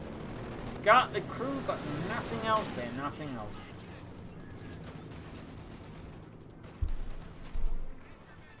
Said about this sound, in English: There you go, we do get the P-47 strafing run.